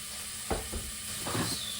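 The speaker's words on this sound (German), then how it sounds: "Die Zwiebeln sowie Knoblauch schwitze ich zuerst an." Onions and garlic sweating in a pot for a vegetable soup, a soft steady sizzle broken by two short bursts of stirring and scraping, no voices.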